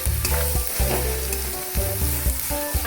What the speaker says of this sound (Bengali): মশলাগুলোকে খুব ভালো করে কষিয়ে নেব।